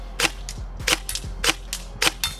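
A G&G SSG-1 USR airsoft rifle fires a string of quick, snappy pops, roughly evenly spaced, each with a short mechanical clack close to the microphone. Under the shots runs a steady low hum.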